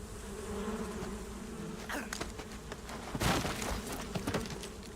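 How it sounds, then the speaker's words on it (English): Swarm of wasps buzzing in the video game Metal Gear Solid 3, a continuous droning hum with scattered louder passes of insects darting close, heard alone without talk. "Yeah, if I survive the swarm of bees."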